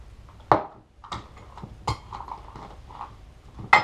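Metal items, including a peanut butter jar, are packed into a Condor cook kit pot, giving a few sharp clinks and knocks spaced out over quiet handling sounds, close by.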